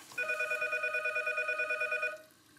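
A telephone rings in one rapid trilling burst lasting about two seconds, fairly close and clear, then cuts off into quiet.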